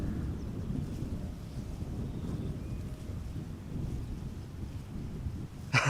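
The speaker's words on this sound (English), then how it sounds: "It's actually quite doable standing here with the wind constantly blowing." Steady wind blows outdoors at Schiphol Airport, a constant low rumbling buffet against the microphone for the whole stretch, with a brief louder gust or bump right at the end and no talk.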